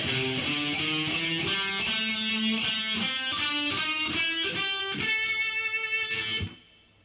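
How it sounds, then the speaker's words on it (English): A distorted electric guitar runs through a pentatonic minor blues scale for heavy metal, a steady sequence of separate picked notes, loud and solo, ending abruptly with the last note cut off. "The next one is the pentatonic minor blues scale,"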